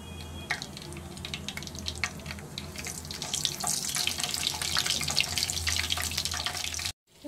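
Green chillies and nigella seeds hit hot oil for a Bengali-style perch curry, giving a steady, close crackling sizzle that holds for about seven seconds and then cuts off abruptly.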